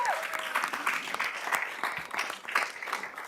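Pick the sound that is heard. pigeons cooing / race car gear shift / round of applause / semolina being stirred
round of applause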